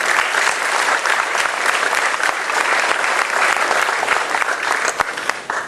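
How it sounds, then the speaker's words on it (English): Loud, dense audience applause at a growers' association meeting, sustained and even for several seconds as the crowd welcomes the next speaker, with no talking over it. "Everyone give him a round of applause."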